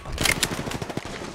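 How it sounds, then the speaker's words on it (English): Rapid gunfire in the video game Apex Legends Mobile during a battle royale match, a dense burst of repeated shots with sharp transients, loud and close. "I'm taking shots."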